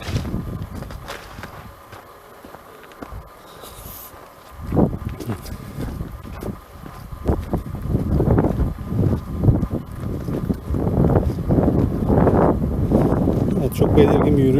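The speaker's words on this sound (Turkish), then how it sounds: "Burası çok rüzgarlı bu arada." Strong gusty wind buffets the microphone on a cliff above Alagadi beach near Kyrenia, rumbling in uneven bursts that grow heavier toward the end, with faint steps underneath.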